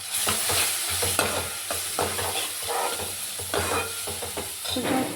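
Tomato paste with chili powder sizzles and fries in hot oil for a fish curry, with steady crackling and repeated stirring scrapes throughout, close and fairly loud.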